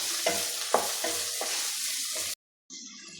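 Sliced onions frying in a pan as they are stirred toward golden brown for a beef dish, with repeated spoon scrapes over a steady sizzle that cuts off abruptly near the end.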